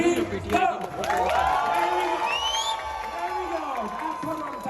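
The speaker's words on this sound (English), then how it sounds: "they deserve a real round of applause" A festival crowd cheers and whoops in a sustained swell after a countdown, loud and close with overlapping shouts and voices, while a speaker's voice carries over the noise.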